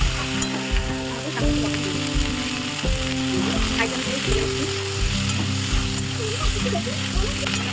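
Pumpkin and potato pieces frying in oil give a loud, continuous sizzle under ongoing speech, with a steady mechanical hum in the background.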